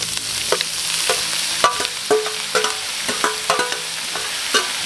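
Longganisa dinuguan is stirred and sautéed in a hot pan: a continuous sizzle broken by repeated scraping, clattering stir strokes at an irregular rhythm, close and fairly loud, with no voices.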